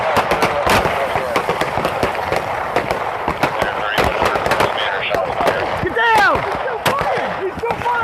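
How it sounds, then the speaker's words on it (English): Rapid gunshots ring out during a police shootout with a murder suspect in Indianapolis, loud sharp cracks in quick irregular bursts, with officers shouting over the gunfire. "Shots fired! Shots fired!"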